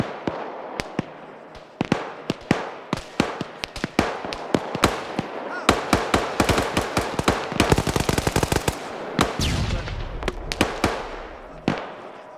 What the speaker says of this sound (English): They threw a stun grenade up.